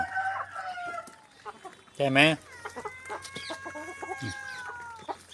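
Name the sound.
chickens clucking and crowing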